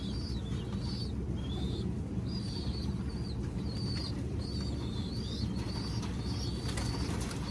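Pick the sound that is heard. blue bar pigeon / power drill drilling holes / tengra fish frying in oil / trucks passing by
blue bar pigeon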